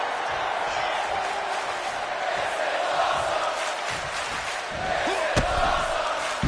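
Arena crowd in the WWE 2K26 wrestling video game roars steadily throughout, a dense wash of cheering with a sharp slam-like hit near the end.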